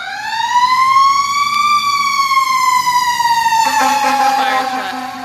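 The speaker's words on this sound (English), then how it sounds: "That's a fire truck driving west on FERN and G." A fire truck siren wails loud and close, rising and falling in long sweeps as the truck drives west through a street intersection. Its engine rumbles beneath, and the tone shifts near the end as it passes.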